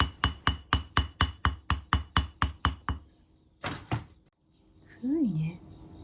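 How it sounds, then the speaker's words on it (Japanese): An old metal hammer taps indigo leaves for dyeing, with about a dozen steady, evenly spaced thuds followed by a few slower knocks, then a pause and a brief voice. "叩くためのもの、私は金槌を使いました。"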